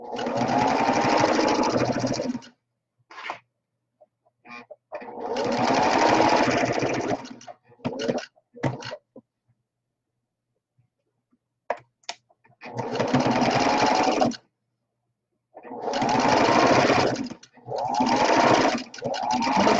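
Sewing machine stitching a fabric face mask, loud close bursts of steady whirring lasting a few seconds each, separated by pauses with brief clicks and handling noises.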